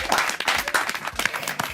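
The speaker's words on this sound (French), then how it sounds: "Applaudissements pour papa." A short burst of clapping and applause from an audience honoring someone's father, steady and fairly close, with a faint voice underneath.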